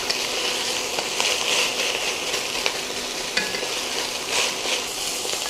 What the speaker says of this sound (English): I'm going to saute these down for about 5 minutes until they get nice and soft and translucent.